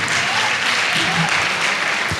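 Loud applause from an audience at a Christmas celebration, a dense, continuous wash of many hands clapping close by for the whole stretch.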